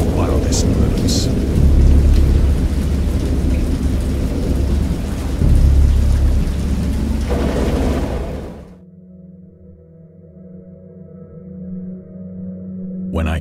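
Thunderstorm in the video game Dagon: heavy rain pours with deep, loud rolling thunder for several seconds, then cuts off abruptly, leaving a quiet low hum.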